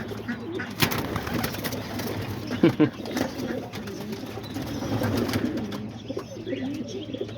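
A homing pigeon, all white except for a colorful tail, coos softly and repeatedly close by, with a person talking throughout.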